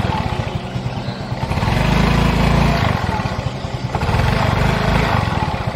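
A Yamaha Soul GT 125 scooter engine runs steadily after a throttle position sensor adjustment, with a close, loud, even idle that swells gently twice.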